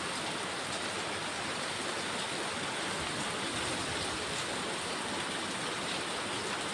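Heavy rain pours down steadily in Dum Dum, a dense, continuous hiss of water at constant loudness throughout, with no voices.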